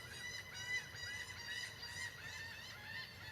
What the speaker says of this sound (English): You guys hear those birds?